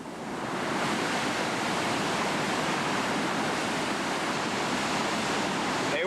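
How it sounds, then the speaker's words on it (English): Whitewater rapid on the Gauley River roaring as a steady, dense wash of rushing water, loud and continuous throughout with no voices. "They work their way out to the middle of the rapid."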